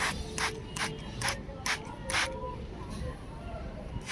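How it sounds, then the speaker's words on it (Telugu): A hand spray bottle mists water lightly over seeds sown in a pot, giving six short, close hissing bursts in a steady rhythm with brief pauses between them. "వాటర్ స్ప్రే చేయాలి."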